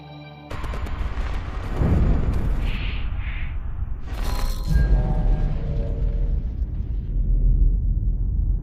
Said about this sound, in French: est en fait l'explosion d'une étoile, une supernova